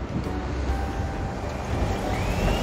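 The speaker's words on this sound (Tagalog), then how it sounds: "Mahangin ngayon dito." Steady wind roars and buffets against the microphone, a constant low rumble with no voices over it.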